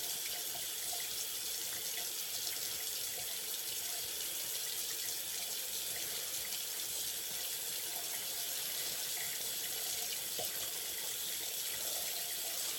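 Cold water runs from a tap in a steady, unbroken hiss and splash for a cold rinse after a shave, loud and close throughout with no talking.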